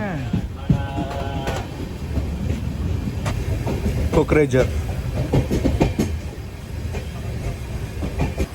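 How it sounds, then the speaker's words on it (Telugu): Kamrup Express pulling out of Kokrajhar station, a steady rumble of rolling wagons with faint rail clicks, heard from on board, with some voices mixed in. "కొక్రేజర్ నుంచి బండి బయలుదేరింది"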